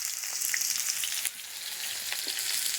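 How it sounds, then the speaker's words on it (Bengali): Chopped onion, two dried red chilies and whole cumin fry in mustard oil in a pan, a steady close sizzle with a few brief clicks of stirring. "তেলে দিয়ে দেবো 2টো শুকনো লঙ্কা, আর দিয়ে দেবো একটু গোটা জিরে, দিয়ে দিচ্ছি পেঁয়াজ কুচি,"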